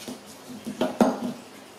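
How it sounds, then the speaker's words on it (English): A knife cuts through halves of spaghetti squash on a board, making a few dull knocks and scrapes. Two firmer clacks land close together near the middle, and there is no talk. "I'll slice the halves like this"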